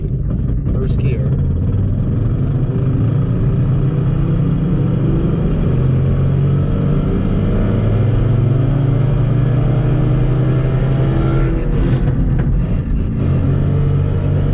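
Car engine pulling hard in first gear through a BC Stage 3 transmission, a loud, continuous rumbling drone that builds steadily toward a 5,000 RPM shift, with voices talking over it.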